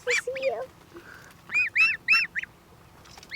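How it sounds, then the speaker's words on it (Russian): Month-old goslings eating grass from a bucket give a run of close, loud nasal honks in short bursts, several quick calls in a row with brief pauses between. "Кто из них по-гусиному крякает?"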